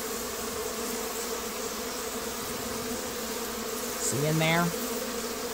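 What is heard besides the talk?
honeybees swarming in a mobile home hive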